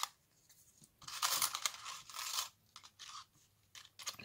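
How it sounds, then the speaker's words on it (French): Paper being cut and pulled free from Halloween-shape dies, crackly crunching and tearing bursts in uneven spurts with quiet gaps between, close and soft. "Et ça découpe très bien."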